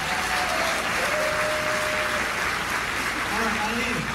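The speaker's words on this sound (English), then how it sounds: "Give her a round of applause." A comedy show crowd breaks into full applause, loud and continuous, many hands clapping at once, with faint voices buried underneath.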